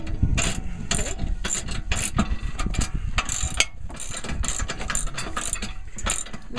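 A ratchet tightens trailer hitch bolts on a Jeep Commander, with rapid clicking bursts repeating in uneven runs, close and loud against faint background noise.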